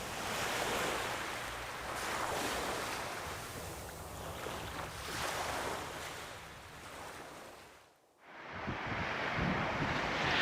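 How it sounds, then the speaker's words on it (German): Wind gusting along the Turkish Black Sea coast, a broad steady rush with surf-like swells, loud and close against the microphone, briefly dropping out before resuming strongly. "auf einmal setzt der Wind ein und ja, ist da"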